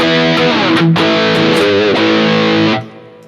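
An electric guitar through a Fractal FM9 or Axe-Fx III reverb block plays a short sustained phrase drenched in reverb, notes bending and ringing, then cut off with a faint tail lingering.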